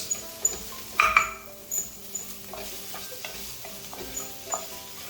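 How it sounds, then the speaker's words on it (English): Ginger garlic paste fries in a pan for a dal pakwan dish, giving a low steady sizzle with scattered scraping stirs and a few light utensil clinks, close and fairly quiet, no talking. "Add the ginger garlic paste and fry it for about 2 to 3 minutes."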